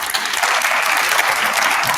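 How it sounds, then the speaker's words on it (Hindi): Audience at a Kanhaiya Kumar event bursting into loud, sustained applause, a dense wash of clapping close and continuous throughout, with faint crowd murmur beneath. "जरा जोरदार तालियां हो जाए पहले"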